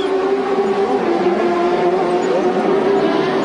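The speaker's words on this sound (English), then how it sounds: "And Fernandez comes in for his stop." A CART Indy race car pulls into the pits at the 1996 Toronto race, heard as a loud, continuous engine drone with a steady tone, amid broadband track noise and no clear talk.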